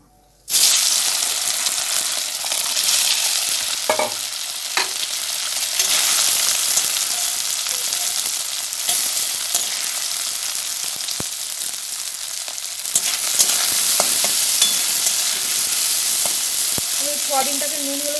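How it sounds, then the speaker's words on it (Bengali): Soybean chunks coated with salt, turmeric and raw oil sizzle steadily in a hot kadai, a dense continuous frying hiss running throughout with a few soft clinks and stirring scrapes near the end. "কড়াইতে এবার আমি সয়াবিনগুলো দিয়ে দেবো।"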